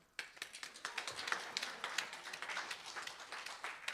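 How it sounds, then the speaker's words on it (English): Sparse applause from a small congregation at a spiritual living center service: scattered, uneven claps spread across the room, steady and moderately close, with no one talking over it. "We can applaud, it's okay."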